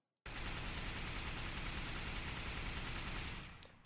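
An AK rifle in Counter-Strike, fired from a crouch, lets off one sustained full-auto spray of rapid, loud shots for about three seconds before it stops abruptly.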